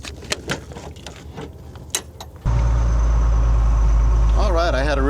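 A truck engine arriving at a ranch for a car-crushing session: after a stretch of light clatter, a loud, close, low engine rumble cuts in and settles into a steady idle, with a rising whine near the end.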